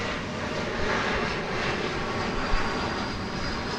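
An A320neo airliner, Flight 268 bound for Las Vegas, rumbles with jet engine noise at Dallas Fort Worth Airport, a sustained moderately loud roar with a gently swelling hiss and a slight bump near the end.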